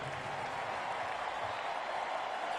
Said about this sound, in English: please give a Texas-sized round of applause to these true Longhorn legends